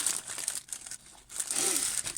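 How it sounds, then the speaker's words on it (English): Cardboard packaging of a snack box pulled back by hand during an unboxing, giving close, steady crinkling and tearing that dips briefly, then grows louder and denser toward the end. "So I'm just pulling the box back."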